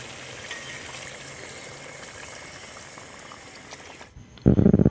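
A fish curry with tamarind juice bubbles and simmers steadily over a wood-fired stove, a soft wet churning that stops abruptly near the end, followed by a brief loud clatter.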